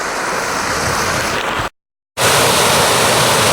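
Cooper Brook in Maine flows as a loud, steady rush of water, with a brief full dropout near the middle before the same rushing sound returns.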